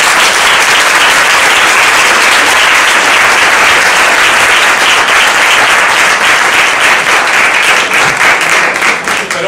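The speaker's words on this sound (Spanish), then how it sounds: "pediros simplemente un caluroso y fortísimo aplauso a José Antonio" A lecture audience at an open classroom talk on a historical uprising breaks into loud, sustained applause, dense clapping that fills the room steadily from start to finish with no voices over it.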